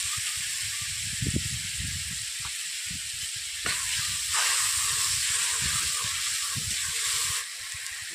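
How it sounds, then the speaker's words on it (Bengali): Spice masala sizzling and frying steadily in a wok with a splash of water, a continuous close hiss with scattered low stirring knocks, swelling louder about midway. "মশলাটাকে আমি ভালোভাবে কষিয়ে নিচ্ছি।"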